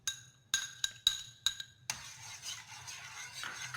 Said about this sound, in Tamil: இப்போ நம்ம நல்லா கிளறி விட்டுக்கலாம்